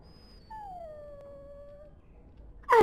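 A dog in the Dragon Age Origins video game lets out a single drawn-out, falling whine, clear and fairly close against a quiet background, followed by a sudden louder burst at the very end.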